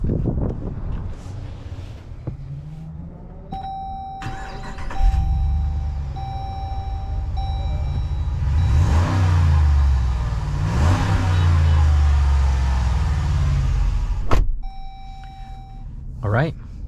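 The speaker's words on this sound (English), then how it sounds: "let's go ahead and take it on a POV test drive, and we'll see how this 2022 Jeep Wagoneer drives." A 2022 Jeep Wagoneer SUV on a test drive, heard from inside: chime beeps ring out as the engine starts, then a low engine rumble swells under road and wind noise before the chimes return.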